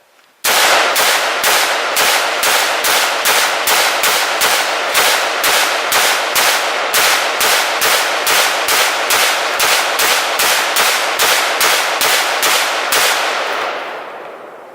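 Thirty rounds of 5.56 full metal jacket ammunition fired in rapid full-auto succession at a ballistic barrier panel, loud sharp evenly spaced cracks running steadily for about thirteen seconds, then a brief fading tail, no talking.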